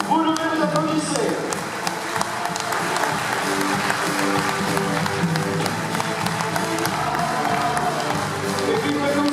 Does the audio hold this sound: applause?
yes